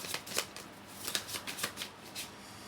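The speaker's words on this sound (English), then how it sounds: "Let me grab 2 cards from here." Tarot cards being shuffled and drawn, giving a run of crisp papery riffles and flicks in quick irregular bursts, close and fairly quiet, with no talking.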